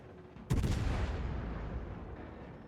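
Naval gunfire from the cruiser Petropavlovsk's turrets in World of Warships, a single heavy boom that hits sharply and rolls off into a long fading rumble, heard alone.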